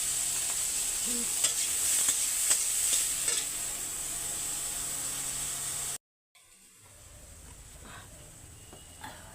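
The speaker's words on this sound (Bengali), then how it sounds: "আর উচ্ছাগুলো তেলে কষে একটু লবণ দিয়ে একটু" Bitter gourd pieces sizzle in oil in a pan with a steady bright hiss and occasional stirring scrapes, then a brief silence before a quieter, fainter sizzle resumes.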